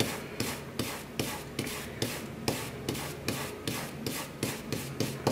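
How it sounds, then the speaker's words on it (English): An ink brush rubbed back and forth along the grain of crepe paper while colouring a paper peony, giving a soft, regular rasping swish repeated about twice a second, close and quiet with no talk. "I'm just going to rub this back and forth"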